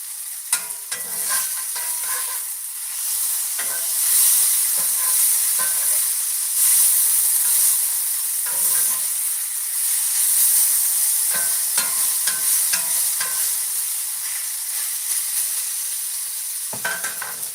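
Breakfast food fries in a pan with a steady bright sizzle and hiss, while a utensil stirs and scrapes at intervals, close and continuous, with no talking.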